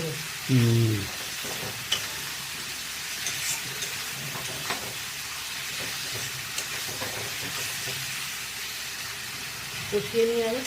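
Spice masala for fig kofta is stirred and sautéed in a pan with small splashes of water, producing a steady, close sizzling hiss with faint scraping throughout. Brief bursts of talk come near the start and end.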